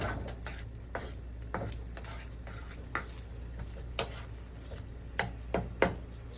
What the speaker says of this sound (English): you can already hear it and you can see it beginning to bubble